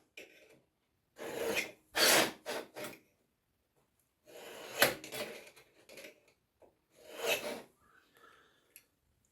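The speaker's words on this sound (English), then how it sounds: "Now along both sides, along both edges, scribe in a 10 millimeter line." Scribe scratching 10 millimeter lines along the edges of metal mating plates, several short rasping strokes in separate bursts with quiet gaps between them, close and fairly faint.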